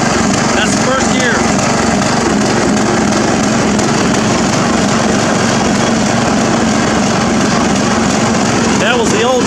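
A modified ride-on lawn mower engine drives steadily in first gear, a loud continuous small-engine drone throughout with some voice in the background.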